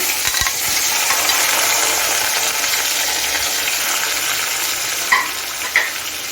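Steady loud sizzle of cut potatoes and onions frying in oil with cumin, with a few brief clinks and scrapes near the end; no voices.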